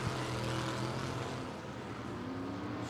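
Factory stock cars race at Tulsa Speedway, engines droning as one thick, steady roar heard faintly from a distance, with a pitch that dips and rises as cars pass down the straightaway.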